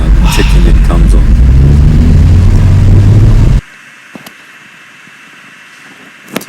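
A car with swapped coil packs and a misfiring engine, set to throw P0300–P0304 codes, is driven on the road, giving a loud, steady cabin rumble for about three and a half seconds before dropping to near silence with a few faint clicks.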